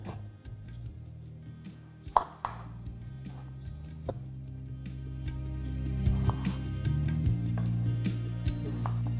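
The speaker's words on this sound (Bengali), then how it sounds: "এবার এখানে আমি আপনাদের এই রেসিপির জন্য আলুটাকেও কেটে দেখাচ্ছি।" A kitchen knife dicing a washed potato into small cubes, a run of soft irregular chops on a board, with one sharper knock early, over low steady background hum.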